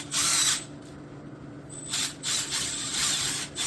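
Power drill boring into concrete in a home shop, a few loud whining bursts with short pauses between them, close by and with no talking.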